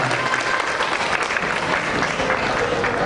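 A hall full of people claps warmly for a Grade 7 pupil receiving a scholarship at an international school closing ceremony, steady dense applause throughout, close and loud, with voices mixed in.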